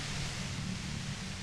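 Steady radio white-noise static from the video game Disco Elysium, an even, quiet hiss that stays constant and unbroken throughout, with no voices or other sounds over it.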